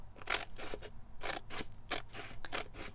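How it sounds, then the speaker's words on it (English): Scissors cut through thin printed tissue paper, producing a series of crisp, close snips in an uneven rhythm, each with a light crunchy rustle. "And then I'm gonna cut where the tape ends, which is just inside"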